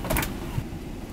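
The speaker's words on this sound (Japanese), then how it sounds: "ドア閉まりました。" The cabin door of a Korean Air Boeing 777 airliner shuts with a short mechanical whir and a soft thump over a steady cabin hum.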